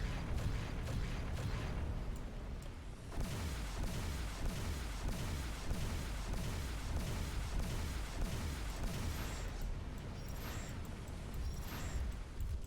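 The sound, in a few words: gunfire hitting the player's ship in video game X Rebirth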